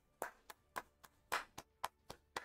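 Hand clapping, eight sharp claps at a slightly uneven pace, fairly faint with no talking over it.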